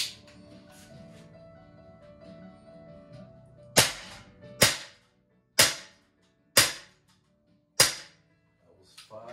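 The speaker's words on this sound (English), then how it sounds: "Shoot a couple of rounds just for fun." Five sharp gunshots ring out one after another at roughly one-second intervals, each with a quick decaying crack, following a stretch of quiet background hum.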